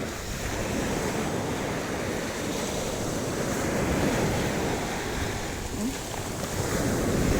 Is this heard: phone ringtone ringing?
no